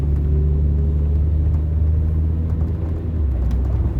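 A car drives along the road with a steady, loud low engine rumble and road noise, heard from inside or close by, continuous and without talk.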